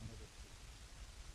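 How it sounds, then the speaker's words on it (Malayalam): Rain falling steadily through dense forest trees near a temple on a hill, a soft, even patter without pause, with no talk over it. "മഴയാണ്, പക്ഷേ നമ്മൾ മഴ നനയുള്ള കാരണം കണ്ടില്ലേ, അത്രയ്ക്കും മരങ്ങളാണ്."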